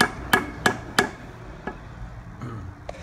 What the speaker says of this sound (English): You gonna hit that hammer or what?